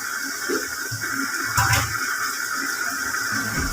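Hot water left from boiling chana dal poured into a cooking pan, a steady gushing rush of liquid up close with a brief louder splash midway.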